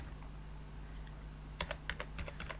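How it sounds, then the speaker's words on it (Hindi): Quick bursts of key taps on a computer keyboard as a name is typed, faint and close over a steady low electrical hum, about ten clicks in the final second. "जैसे हम यहाँ पर लिख देते हैं सुरेश सिंह"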